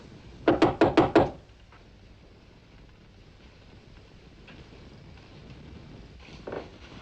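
Five quick, loud knocks rap on a door in a 1950s film scene, an evenly spaced burst near the start followed by quiet room tone, a faint thump later on, and no speech.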